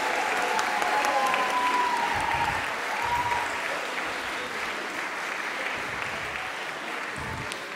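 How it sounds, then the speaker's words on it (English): A school audience at a house music ensemble competition gives sustained applause, a dense steady wash of many hands clapping throughout, with faint cheering in the background. "I would like to give you all a huge round of applause again once more."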